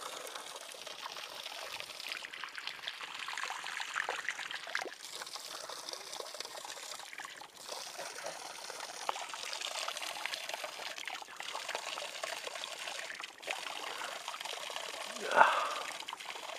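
Continuous trickling and pouring spring water near the Dacian fortresses of the Orastie Mountains, a steady close flow with a brief louder splash near the end.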